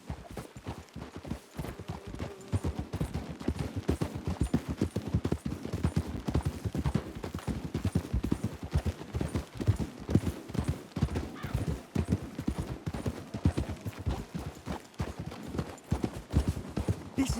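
Horses in the Red Dead Redemption 2 video game move at a steady gallop, with dense rapid hoofbeats drumming continuously at close range and a faint whinny.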